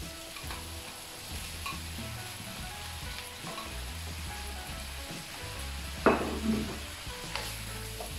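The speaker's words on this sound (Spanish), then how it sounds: "La carne y su juguito para adentro." Pork tenderloin and its juices, with bay leaves and garlic, fry in a pan with a soft, steady sizzle, punctuated by a sharp clank of utensil or lid and a few light stirs, heard close without speech.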